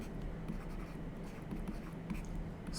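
Chalk or marker scratches and taps faintly on a board during a physics class on Gauss's law, small strokes set against a steady room hum.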